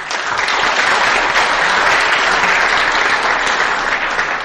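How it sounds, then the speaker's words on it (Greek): Sustained audience applause fills a hall at an athletics awards ceremony, dense and loud with steady clapping throughout and no break. "υπάρχουν και πολλά άλλα παιδιά όμως που προσπαθούν και αξίζουν και αυτά ένα χειροκρότημα"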